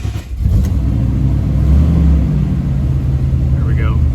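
Van engine running and revving after a repeated start attempt, a suspected fuel pump fault. Steady, close, loud mid-low rumble with a voice over it.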